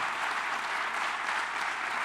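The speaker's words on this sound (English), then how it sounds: "they spoke tonight for free so that this applause would happen" An evening audience at a speaking event claps steadily, a dense, even wash of applause heard from some distance with no voices over it.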